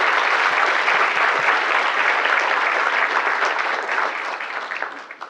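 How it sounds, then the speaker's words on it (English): An event audience applauds with a dense, loud wash of hand claps that holds steady and then tapers off toward the end. "please just give them a hand clap"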